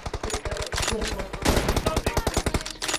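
A Groza assault rifle in PUBG Mobile fires long, rapid automatic bursts, loud and close, with brief gaps between strings of shots.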